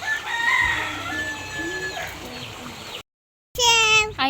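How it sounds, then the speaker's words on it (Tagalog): A rooster crows in a long, wavering call over outdoor ambience with light rustling. After a short gap of silence, a second loud, close crow begins and rings out. "Ayan na po yung manok po ni ate, oho."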